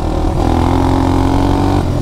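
An ATV engine held at its rev limiter in fourth gear drones loud and steady with a buzzy, even tone that barely changes over two seconds.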